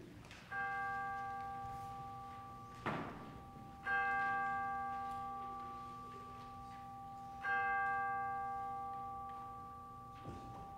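Church chimes ring out at a Christmas Day worship service, three separate bell strikes spaced a few seconds apart, each sounding clearly and slowly fading, with no voices.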